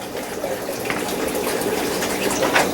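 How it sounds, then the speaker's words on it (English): Water being pumped and sucked out of a very dirty aquarium, a close, steady gushing and gurgling flow that runs continuously with no talking. "You can probably hear it. It'll start sucking that water out."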